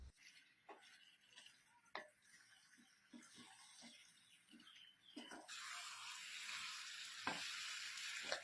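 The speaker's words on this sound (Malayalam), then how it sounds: "നമുക്ക് ഈ ചിക്കനും മറ്റും നന്നായിട്ടൊന്ന് ഇളക്കി യോജിപ്പിക്കാം." Chicken with pepper and salt being stirred in a kadai, giving a soft sizzle with scattered clicks and scrapes of the spoon against the pan, growing steadier and louder toward the end.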